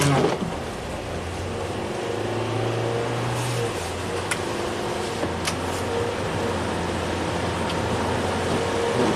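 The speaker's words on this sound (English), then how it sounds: "Let's drive it, see what happens. Alright, here we go. Let's do some little acceleration here." A Ford EcoBoost car with a suspected turbo surge fault accelerates while driving, a steady low engine drone and road rumble from inside the cabin, rising slightly, with a couple of faint clicks and no talk.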